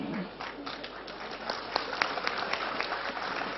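Audience applause at an Islamic sermon, a steady crowd clapping throughout with scattered individual claps standing out, fairly loud and without speech.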